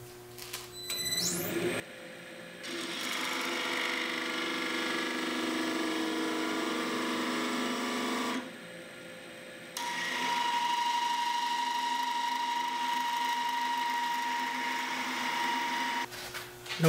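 A wood lathe spins a small bark-edged birdhouse ornament while a Sorby texturing tool with a small wheel is held against the work, giving a whirring, buzzing tone with several brief pauses where the sound drops out.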